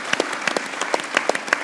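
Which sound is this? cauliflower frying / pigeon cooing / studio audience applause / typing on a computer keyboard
studio audience applause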